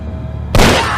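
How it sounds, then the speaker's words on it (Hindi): A single sharp gunshot in a film scene cracks halfway through, a loud sudden blast that decays into a lingering tail after a quiet moment. "गन निकालो और अपने हाथ पे गोली मारो।"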